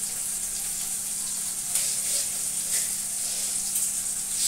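Onion and tomato frying in a pan for mutton kasha, a soft continuous hiss and sizzle with faint steamy crackles, steady and close, no voices.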